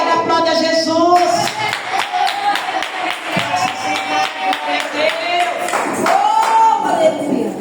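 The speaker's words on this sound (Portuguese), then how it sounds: "Agora aplauda Jesus." A church congregation at a Wednesday evangelical service claps in praise, with rhythmic hand claps mixed among sung or chanted voices and music throughout.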